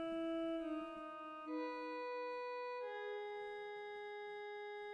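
A string patch added to a beat holds smooth, sustained chords that shift three times over several seconds, quiet and alone with no drums or voice.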